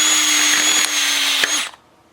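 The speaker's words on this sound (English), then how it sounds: "The drill was still spinning, but the clutch stopped" A Festool drill with a Centrotec chuck drives a screw with a loud, steady whine that drops away as the clutch slips and the motor stops, ending in near silence.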